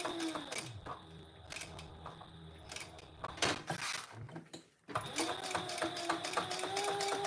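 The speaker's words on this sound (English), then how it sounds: "we're just top stitching" Sewing machine top stitching, with short quiet mechanical runs and ticks broken by brief pauses, then a steady run near the end, while someone talks over it.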